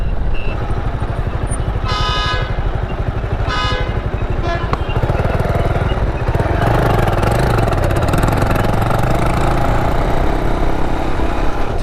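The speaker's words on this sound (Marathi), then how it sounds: "गाडीची फायरिंग थोडीशी चेंज झाली काय कळत नाही फिल्ड सायलेन्सर फाटला आहे की का लीक झाला आहे" A vehicle engine on a road journey runs loud and close for the whole stretch, its firing note slightly changed as though the silencer is leaking, with a few brief horn-like tones early on and no talk over it.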